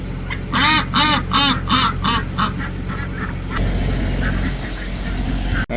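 Ducks quack in a backyard, giving a run of loud, close, repeated calls in a steady rhythm for the first few seconds before settling into softer, scattered sounds over steady background noise.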